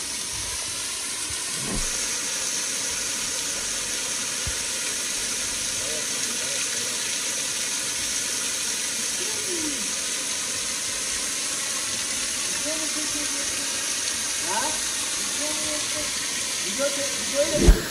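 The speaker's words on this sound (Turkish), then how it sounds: "Ve gördüğünüz gibi şu anda şelalenin de altına geldim arkadaşlar." A steady, broad rushing roar of a waterfall, heard from beneath it, fills the whole stretch, with faint voices occasionally audible beneath it.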